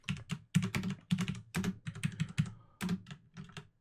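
Rapid typing on a British-layout computer keyboard, a close, dry clatter of keystrokes coming in quick uneven bursts with brief pauses, no voices.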